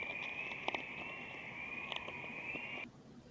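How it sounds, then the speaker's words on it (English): A played nature recording of crickets with an eerie, ethereal quality: a steady high chirring drone runs throughout with a few sharp snaps and faint crackles layered over it, ending abruptly near the close. "I hear the crickets"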